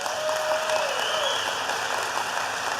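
Continuous applause from an audience during a political speech, an even, fairly distant wash of clapping with a faint steady tone running underneath.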